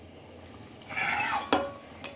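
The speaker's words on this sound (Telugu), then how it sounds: "ఇప్పుడు మూత పెట్టేసి కర్రీని" A lid goes onto a pan of stuffed eggplant curry with a short scraping rustle and then one sharp metallic clink close by, with a faint tap after it and no voices.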